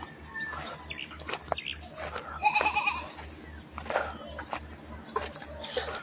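Goats bleat several times at close range, with some faint birdsong and rustling in an outdoor setting.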